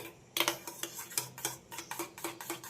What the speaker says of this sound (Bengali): খুব ভালোভাবে ডিমের সঙ্গে মিশিয়ে নিতে হবে পেঁয়াজ আর লবণকে